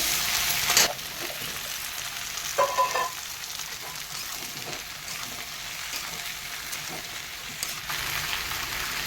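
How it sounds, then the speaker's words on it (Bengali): Onion, green chilli, tomato and potato fry in a pan, a constant close sizzle with a few clattering stirs, no talk. "এগুলো একটু ভাজা ভাজা করে নেবো আলুটা দিয়ে দেবো"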